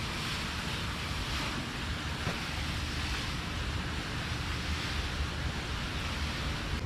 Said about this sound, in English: This is a job I do quite often on the farm, watering plants.